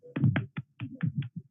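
A few scattered hand claps at a conference session, sparse and uneven sharp slaps close by, about seven or eight in under two seconds with gaps between them.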